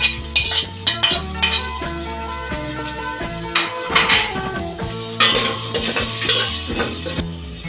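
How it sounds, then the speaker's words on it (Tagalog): Garlic and ginger sweat in a hot pan with a bright, crackling sizzle, broken by rhythmic scraping and clinks of a utensil against the metal, with tonal musical sounds running alongside. "pagpapawisin lang natin o isaswet lang natin itong bawang at luya natin sa ating"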